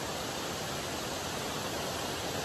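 Laurel Falls waterfall on a creek, a dense, steady roar of rushing water filling the whole short stretch, loud and unbroken with no other sounds.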